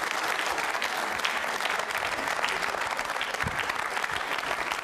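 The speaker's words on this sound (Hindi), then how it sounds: "तालियां जोरों से बजाइए सर।" Loud, dense applause from a quiz-show audience at a Jain Social Group regional event, steady clapping filling the hall without a break.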